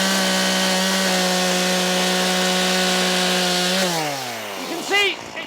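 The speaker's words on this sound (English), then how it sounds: "I'm going to chainsaw it there so that it drops down" A chainsaw cuts through a wooden pile for a garden room base, a loud steady drone that holds for nearly four seconds, then drops in pitch and bogs down as the pile gives way, followed by the engine settling.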